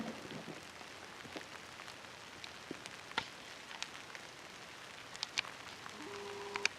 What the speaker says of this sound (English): Damn rain, it's just mixed with snow.